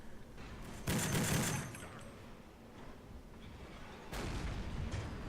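Ship deck gun fire in the Silent Hunter IV submarine game: two loud booming bursts, one at the start and one near the end, each ringing out over a low rumbling background, with no speech.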